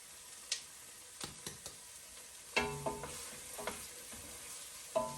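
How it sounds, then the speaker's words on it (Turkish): Peppers tossed into a pan of softened onions and stirred, a faint sizzle under scattered clinks and scrapes of a spoon against the pan, close and quiet, with no voices. "Şimdi biberleri koyuyoruz içine."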